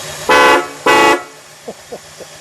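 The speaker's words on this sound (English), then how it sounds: "Go ahead, let's beep that horn, Terry." Two loud, sustained honks from a 1966 Buick Wildcat GS horn, close up, followed by a few faint short sounds.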